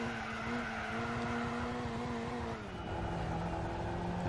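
A Lotus race car in Gran Turismo 4 holds a steady engine drone as it sweeps through a corner, the pitch dipping and settling midway with faint tire scrub, loud and continuous with no talk.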